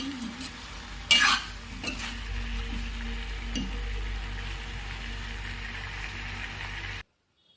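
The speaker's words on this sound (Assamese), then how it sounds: "এনেদৰে অলপ সময় ভাজি ল'লোঁ।" Local chicken and capsicum being stirred and fried in a pan: a sharp metallic clatter of the spoon near the start, then steady close sizzling and scraping throughout.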